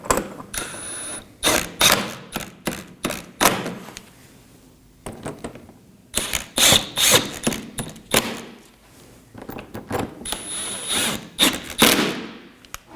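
Tensioner bolts on a 2013-2019 Nissan Sentra 1.8L are snugged down with a hand tool, giving close, loud groups of sharp ratcheting clicks and clunks separated by short quiet gaps.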